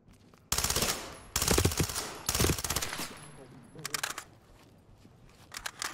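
Bursts of automatic gunfire from a tactical police shooter set in a zombie-infested mod, loud rapid volleys separated by short pauses, with scattered single shots trailing off toward the end.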